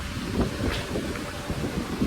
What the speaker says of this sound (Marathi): मस्त वारा